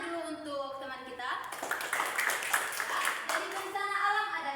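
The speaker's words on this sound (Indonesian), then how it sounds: "tepuk tangan dulu untuk teman kita" Classmates clap for their peers during a school social studies group simulation on natural disasters, a moderate, fairly steady patter of hands lasting a few seconds, with children's voices mixed in.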